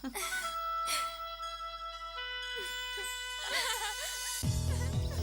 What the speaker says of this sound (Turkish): İşte karşınızda Ayşegül'ün koyunu